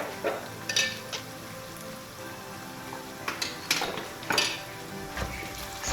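Turmeric, coriander and cumin powders fry in a pan for a homemade potato leaves with shrimp dish, giving a soft steady sizzle broken by scattered clinks and scraping of utensils against the pan.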